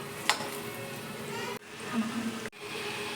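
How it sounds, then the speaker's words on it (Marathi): Dahi vada batter frying in hot oil until golden, a soft steady sizzle with faint bubbling throughout. "त्याला सोनेरी रंग येईपर्यंत तळून घ्यायचे"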